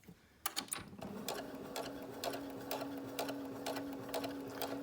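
A sewing machine running slowly while stitching shirring with elastic thread, giving a steady hum with evenly spaced mechanical clicks repeating about twice a second, fairly close and alone.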